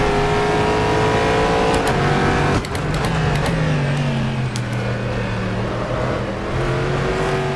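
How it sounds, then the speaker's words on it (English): Corvette C7.R GTE race car at Sebring in rFactor 2, its engine droning steadily and loudly with pitch shifting through gear changes, a brief downshift blip near the middle, no voices. "Hope you enjoyed the sounds of the car"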